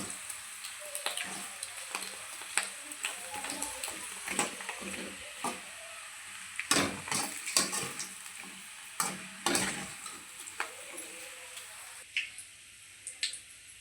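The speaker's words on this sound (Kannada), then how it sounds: "ನೋಡಿ ಚಂದ ಕಾದಿದೆ ಹಪ್ಪಳದ ಬದಲಿಗೆ ನಾನು ಬೋಟಿ ಇಟ್ಕೊಳ್ತಾ ಇದ್ದೇನೆ" Boti fryums fry in hot oil on a dosa pan as part of Nagarapanchami festival cooking, with a close, continuous crackling sizzle and irregular stirring clicks and taps.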